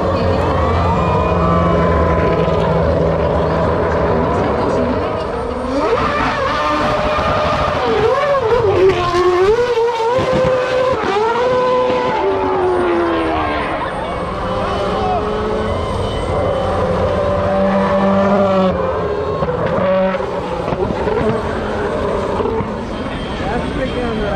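The championship-winning Red Bull RB8 Formula 1 car runs at a street showrun in Thessaloniki, Greece, its loud engine rising and falling in pitch as it revs. A commentator speaks over it.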